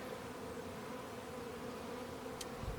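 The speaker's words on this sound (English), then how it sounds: "I see a lot of very hungry bees with their faces inside, drinking the nectar" Honeybees hum steadily on a hive frame of nectar being moved into a new home, a close, continuous drone with one brief clack near the end.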